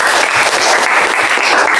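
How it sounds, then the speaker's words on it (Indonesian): Classroom applause for a student after a lesson on flora and fauna, a steady, dense clapping of many hands that stays loud and continuous throughout with no talking. "Oke, tepuk tangan dulu untuk Vika."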